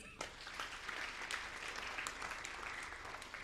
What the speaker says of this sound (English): We had sign language interpreters. Let's clap for them.